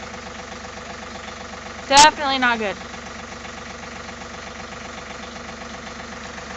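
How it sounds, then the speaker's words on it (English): A John Deere tractor engine idles with a steady mid-pitched rumble and slight knock at a demolition site, while someone briefly speaks over it. "that's a John Deere tractor right there, son."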